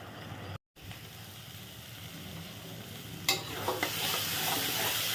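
Spice paste with ground ripe tomato is stir-fried in a pan for a bhola fish curry, giving a continuous close sizzle with spoon scrapes and clinks growing louder near the end; a brief dropout interrupts the sound early on.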